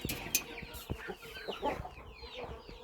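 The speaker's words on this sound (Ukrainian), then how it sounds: "Вон там пташечка якась, курчата злякалася." Chicks cluck and cheep in short, scattered bursts, fairly faint and close together, with small rustling noises between calls, in a new poultry enclosure.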